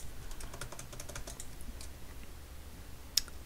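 Light keyboard typing while code is entered, a scattered run of soft clicks in the first two seconds over a low hum, then a lull ending in one sharper tap near the end.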